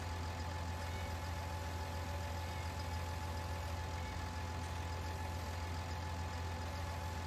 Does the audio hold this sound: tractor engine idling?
yes